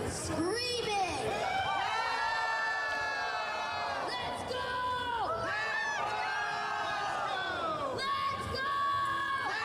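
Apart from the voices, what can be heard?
crowd screaming and cheering at a bare knuckle fight show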